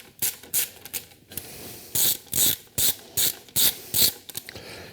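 A ratchet wrench works a 12 millimeter nut off a 2006 Subaru Legacy GT Turbo engine, giving quick runs of clicking followed by a series of evenly spaced, louder ratcheting strokes up close.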